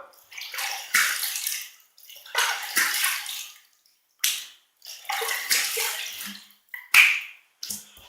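Short bursts of running tap water, about five separate splashes with quiet gaps between them, as a Merkur Futur safety razor is rinsed clean between shaving passes.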